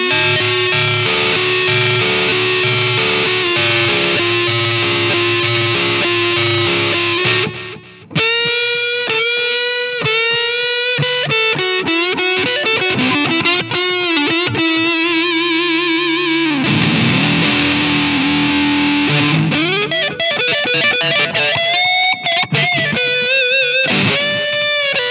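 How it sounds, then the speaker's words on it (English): Electric guitar run through fuzz distortion, a Leslie-style rotary vibrato and stereo echo, played as a psychedelic solo with sustained bent notes and swirling repeats, loud and continuous with a brief dropout near the middle. "a fuzz in the front, and if you want to go even further, the vibrato to get that Leslie type of sound, and there's some echo as well"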